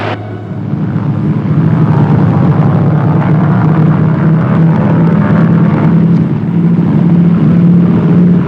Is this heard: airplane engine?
yes